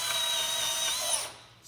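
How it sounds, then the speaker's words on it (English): A power drill whines loudly at close range while boring a hole, its motor pitch holding steady, then spinning down and fading over the last half second. "So when you drill a hole, whether you go all the way through or not, leave it in forward, drill down,"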